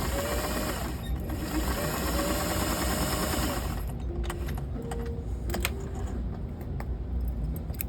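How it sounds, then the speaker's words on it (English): A sewing machine runs a steady, loud stitching whir while joining pieces of a herringbone-pattern quilt with a quarter-inch seam, then shifts to a series of rapid mechanical clicks and short bursts partway through, with no talk over it. "stitch these together, 1/4 inch seam allowance. Use a guide on your machine."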